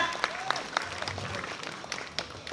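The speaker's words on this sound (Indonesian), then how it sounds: "tepuk tangan" Crowd applause at an outdoor Balinese Calonarang performance at a temple cemetery, a dense burst of clapping with a few sharp louder claps early, holding steady throughout, with faint voices mixed in.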